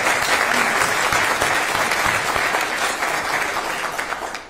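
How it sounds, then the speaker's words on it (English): A large audience gives loud, sustained applause for a list of leaders at an education accountability ratings event, thick continuous clapping that stays strong throughout and only begins to thin at the very end. "So please give our applause"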